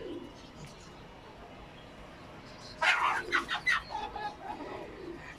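Adult pigeons coo in a close group, a short burst of soft throaty calls rising after a quiet start, then fading into low murmurs.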